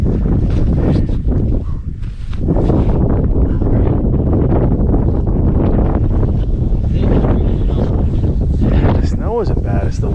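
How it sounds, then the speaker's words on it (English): Strong, cold wind buffets the microphone out on a frozen lake during ice fishing, a loud continuous rumble and roar with a voice talking over it. "The snow isn't bad, it's the wind and it is stiflingly cold."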